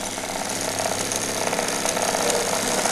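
A 3 HP DC motor driven by PWM MOSFET control at 100 volts, spinning at about 1300 RPM, makes a steady, dense, buzzing whir that holds level for the whole stretch with no talking.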